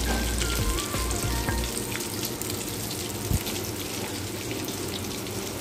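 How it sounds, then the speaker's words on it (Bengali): Bengali banana flower chops frying in hot oil, a dense steady sizzle with a few small clinks and knocks, close up and continuous with no voices. "লাল লাল করে 2 পিঠ ভেজে নিয়েছি। ভাজাটা আমার কমপ্লিট হয়ে গেছে।"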